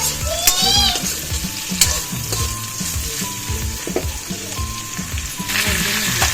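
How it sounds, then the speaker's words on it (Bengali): Potatoes frying in oil in a wok with onion, garlic, bay leaf and whole spices, giving a loud, close, continuous sizzle with occasional stirring scrapes and no talk. "আমি আলুর দমের জন্য কড়াইতে তেল দিয়ে দিয়েছি, তারপরে পেঁয়াজ, রসুন, তেজপাতা আর ফোড়ন দিয়ে একটু নেড়ে নিচ্ছি"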